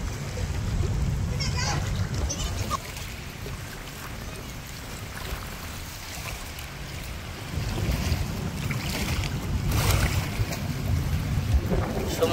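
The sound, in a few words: river waves splashing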